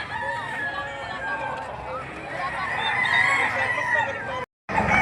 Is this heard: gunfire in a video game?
no